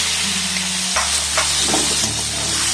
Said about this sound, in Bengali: এবার মটরশুঁটির যে মিক্সড আমি বানিয়েছি সেটা দিয়ে দিলাম